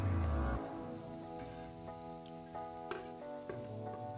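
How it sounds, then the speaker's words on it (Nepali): Capsicum and carrot frying in oil with onion and tomato, a soft continuous sizzle with faint crackles and occasional stirring taps, quiet and close, with no talking. "अगाडिको तेल प्याज टमाटरमा चलाएर एकछिन फ्राई हुनु दिनुपर्छ"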